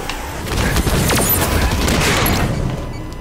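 Gunfire crackles in Halo 5 Free for All gameplay, a loud dense burst of shots and impacts lasting a few seconds before fading out at the end.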